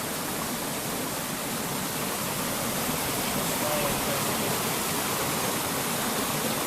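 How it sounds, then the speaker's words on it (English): At the top of a waterfall about 70 feet high, water rushes in a constant, close, dense roar that stays even throughout. "So yeah, there's a waterfall."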